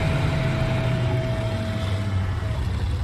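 Low, steady engine rumble of an AMX tank in a World War II-style tank battle video game, a continuous droning idle with a faint tonal whine, heard alone at moderate loudness.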